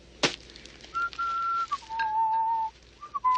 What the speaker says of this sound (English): What was that song you were whistling before?